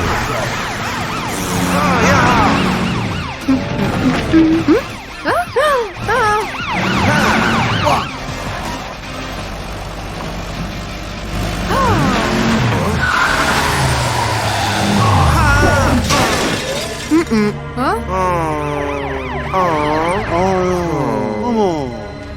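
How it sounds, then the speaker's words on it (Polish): A wailing emergency siren rises and falls over voices and bright background music. "użyj swojej syreny"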